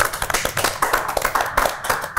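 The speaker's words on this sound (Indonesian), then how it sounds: "Tepuk tangan dulu dong." Podcast hosts and guests clap their hands together in a lively burst of sharp, uneven claps that runs throughout, close and fairly loud, with no talk over it.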